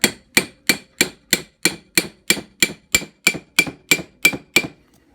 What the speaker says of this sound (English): It's chipping brass off my hammer.